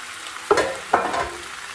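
Small tomatoes drop into a hot pan with grilled turmeric vegetables, giving two quick bursts of sizzle and stirring over a soft, steady frying hiss.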